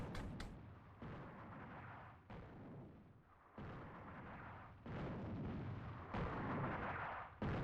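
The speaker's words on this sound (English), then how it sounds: "That should have been a artillery strike." Artillery strike in the video game Attack at Dawn: North Africa: a series of deep, rumbling explosive bursts that roll in one after another, fairly distant and muffled, with no talking.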